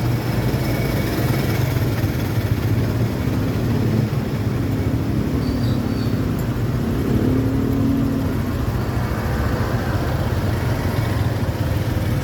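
Cars and other vehicles idle in a stalled traffic jam on the road from Pili into Naga City, a steady loud engine rumble with a constant low drone and no pauses.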